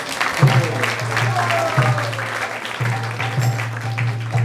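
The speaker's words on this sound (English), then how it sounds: "let's give a big round of applause to everyone who has joined us here" A festival audience at a Sunday feast claps in steady applause, joined by a low, constant hum and some voices in the background.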